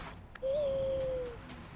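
An owl in the Far Cry Primal video game gives a single sustained, steady hoot lasting nearly a second, close and clear over a low ambient game backdrop.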